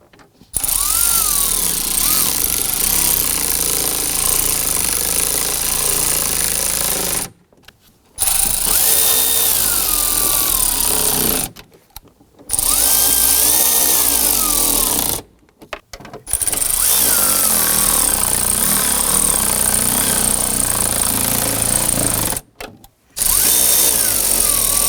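Power tool whirring in repeated bursts of several seconds each, separated by short pauses, as screws are driven into the blower motor assembly of a 2001-2009 Volvo S60; steady, fairly loud, no talking.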